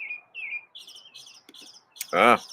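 A robin chirps in a backyard with a series of short, clear whistled notes. A louder harsh call follows near the end, and the calls stand alone without talk.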